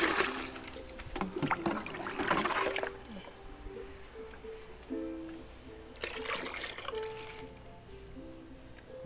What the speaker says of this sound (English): Then 6 liters of green water.